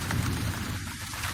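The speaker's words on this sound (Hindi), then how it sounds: "इसी बीच बारिश भी शुरू हो जाती है।" Rain falls during a journey along a rough mountain road, a steady dense hiss of drops with a low rumbling undertone, continuous and moderately loud throughout.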